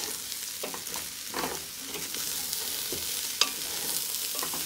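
Carrots frying in a pan for Trinidadian bhaji rice are stirred, giving a steady sizzle with soft scraping strokes and one sharp clink near the end, close and moderately loud, with no voices.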